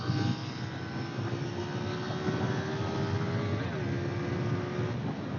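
A KTM Duke 890 R motorcycle engine drones at high revs under heavy wind rush as the bike rides, its tone holding steady and then dipping briefly near the end.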